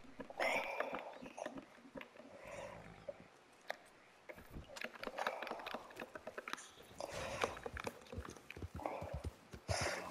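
Rapid hoof clip-clops from a galloping horse in Red Dead, steady and fairly close, with bursts of louder activity and occasional voices in between.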